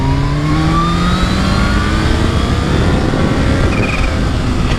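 A Kawasaki Ninja H2 motorcycle engine runs steadily and loudly close by, its rising tone suggesting acceleration with a constant roar and wind noise throughout.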